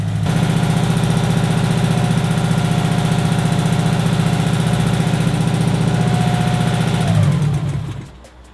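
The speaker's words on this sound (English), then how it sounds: "We're running high idle on a tune that hasn't learned itself yet." Built 2005 Subaru STI engine running at high idle on an unlearned tune, running lean, a steady loud close rumble that holds even for about seven seconds before cutting off and fading out.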